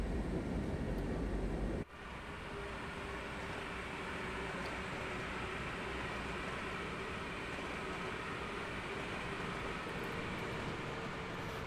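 A push-pull train propelled by a class 110 electric locomotive in Train Sim World 4 rolls along with a steady, loud rumble and hum that briefly dips early on, then holds constant, without any talk.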